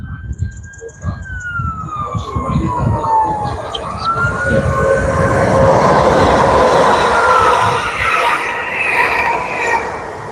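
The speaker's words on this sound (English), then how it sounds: "Yeah, it's a train, I know." A train rolls past at Wallyford, a loud, steady rumble of wheels and cars that builds and holds, while a siren wails faintly in the distance and people talk briefly nearby.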